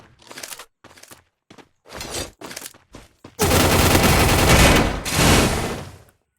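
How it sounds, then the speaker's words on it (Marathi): Gunfire in a mobile shooter game: a few short isolated shots first, then a sustained loud burst of rapid automatic fire with a brief break, close and dense. "मग मागणं कोणतरी फायरिंग करते."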